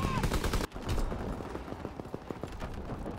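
Rapid gunfire while sniping turret gunners in Call of Duty WWII, with a loud opening burst followed by a dense run of sharp shots and rattling fire.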